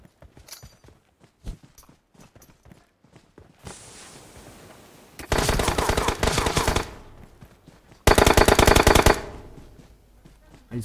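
Gunfire in a GTA roleplay video game: scattered single shots and clicks, then a hiss, followed by two loud sustained bursts of rapid automatic fire, the second the loudest.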